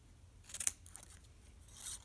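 Scissors snipping through paper during a children's art project, a few quick close crisp cuts in a cluster and then one more slicing stroke, heard against quiet.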